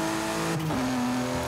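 A BMW i8 engine in the video game Forza Horizon 5 holds a steady, loud drone with a brief pitch dip and rise as it revs, sustained throughout with no talking.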